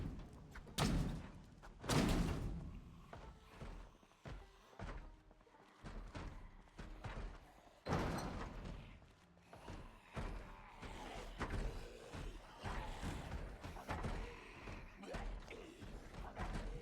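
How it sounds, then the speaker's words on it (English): Zombies in Project Zomboid (Build 42) pound on a door: repeated heavy thuds and slams at an irregular pace, loud and close, with scraping and bumping in between and no talk. "Looks like everybody is smashing on a door."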